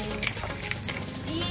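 Keys jangle in a short metallic rattle against a busy mall background, with voices chatting nearby.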